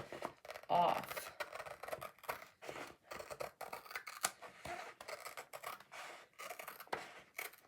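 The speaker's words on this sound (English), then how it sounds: "I'm going to cut right on that line so that I take my word Namaste" Scissors cut along the cut line of a t-shirt transfer, making a quiet run of close, crisp snips and scraping strokes in an irregular rhythm.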